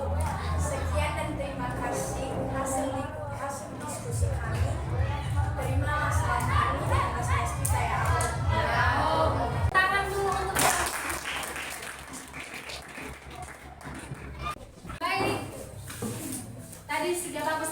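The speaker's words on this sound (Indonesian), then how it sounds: "Tepuk tangan dulu sekali lagi" A class gives a group presentation a round of applause, with rhythmic clapping mixed with many voices calling and chattering, loud and close throughout.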